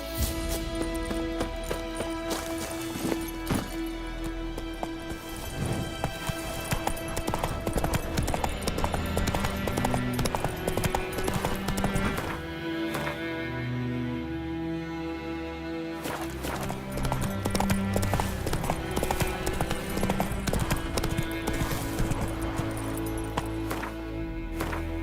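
In The Witcher 3: Wild Hunt, a horse gallops with a steady, continuous clip-clop of hooves layered under the game's music and ambient sound.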